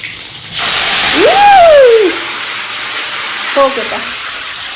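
Curry leaves with water on them spluttering in hot oil, a loud burst of crackling and sizzling that swells then settles, with a brief whistle-like tone and a short voice near the end.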